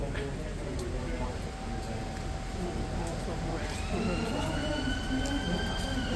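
A siren wails faintly in the distance over a busy, noisy street background, its rising tone sweeping up and holding.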